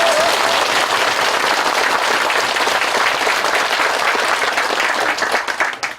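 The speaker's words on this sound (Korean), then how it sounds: "평범한 우리 그대들 박수 한번" A lecture audience at a Buddhist temple talk claps loudly in a sustained, even round of applause for about six seconds, tapering slightly at the end.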